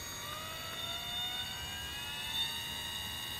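An electric motor in the PT311 RC boat power system whirs steadily while running in reverse, a continuous high whine with rising tones, close and fairly quiet, with no talking.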